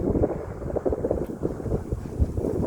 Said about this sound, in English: that wind picked up real quick